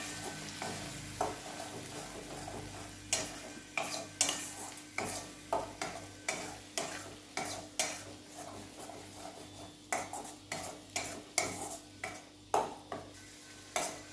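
Onion-tomato paste with a little water being stirred in a pot for veg matka biryani: a quiet, even run of scraping strokes with a soft sizzle, and no talk.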